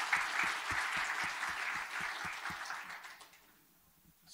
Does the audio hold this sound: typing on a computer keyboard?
no